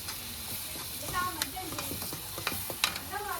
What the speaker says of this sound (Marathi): मिक्स करून घ्यायचे सगळं.